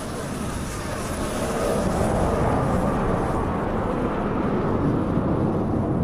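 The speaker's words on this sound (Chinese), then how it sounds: "拉蓝烟的这两架飞机接着会对向跑道转弯，各自向跑道转弯，然后形成一个双机的对飞" Aerobatic display jets at a Chinese airshow produce a broad, steady engine roar that swells slightly as they pass, loud and sustained, with a commentator speaking over it.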